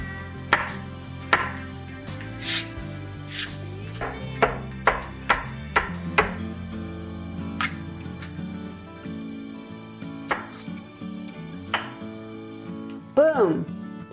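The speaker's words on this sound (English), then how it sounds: "now for the mushrooms." Kitchen knife chopping mushrooms on a cutting board, a run of sharp distinct taps at an uneven pace, close and clear, with a short clattering scrape near the end.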